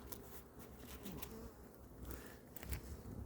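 Honeybees buzzing softly around an open hive during a mid-October colony inspection, making a faint, continuous hum with a few brief louder passes near the listener.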